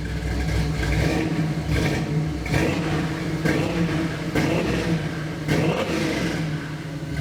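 A 1969 B-body car's engine runs close by with a steady rumble, rising in several short throttle blips at roughly even intervals while the steering is turned.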